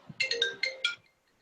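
A telephone ringtone plays a short burst of bright electronic chirps, five quick pulses in about a second, fairly loud and close, then falls silent.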